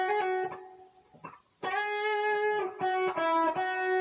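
A distorted electric guitar plays a short bluesy lick with slides and a hammer-on from the flat seventh into the root and a pull-off back, sustained overdriven notes with a brief pause midway, played alone and close.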